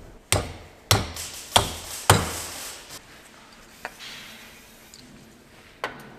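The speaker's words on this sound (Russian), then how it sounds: "Для начала извлекаем стопорные кольца и выбиваем старые подшипники." Hammer blows knock old bearings out of the steering hydraulic cylinders from a front loader's articulation joint: four sharp, ringing metallic strikes in quick succession, then a few lighter, spaced taps, close and alone.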